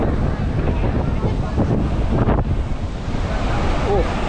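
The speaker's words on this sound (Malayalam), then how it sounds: "ഓ, ഭയങ്കര തിരയാണല്ലോ." Ocean waves breaking on a beach in Chennai, a continuous loud surf roar mixed with heavy wind buffeting on the microphone, with a faint voice near the end.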